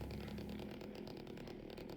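A chainsaw revs and idles in Silent Hill 2, a steady, quiet mechanical buzz with a faint rattle running alone throughout.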